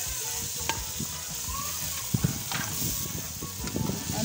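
Meat cubes with tomatoes sizzling in a pan as they are stirred, a steady hiss with low bubbling and a few soft spoon taps, faint and close.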